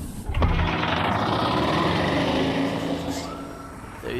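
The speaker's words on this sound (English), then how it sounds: "The engine is engaged and we are starting our set." A starting engine in the game I Expect You To Die, heard alone as a loud, steady mechanical whir and rumble that kicks in sharply and holds at an even level.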